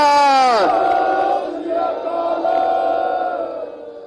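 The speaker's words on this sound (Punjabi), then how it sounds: "ਮੈਂ ਜਕਾਰਾ ਛੱਡਾਂਗਾ, ਹੱਥ ਖੜੇ ਕਰਕੇ ਜਵਾਬ ਦੇਣਾ, ਬੋਲੇ ਸੋ ਨਿਹਾਲ" A protest crowd outside a politician's house roars a long, loud unison Sikh jaikara shout in reply to the call, the massed voices swelling and then slowly fading.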